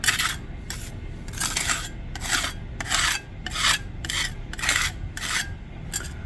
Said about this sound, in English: do this leveling once more using this putty knife